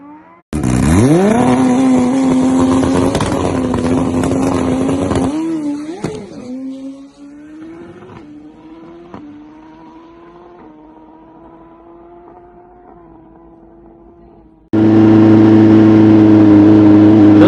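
A drag racing motorcycle runs close by, a loud engine note that rises and then holds for several seconds before cutting off. It comes back as a quieter steady hum that climbs slowly, then roars again at full loudness as it rides back after a test pass.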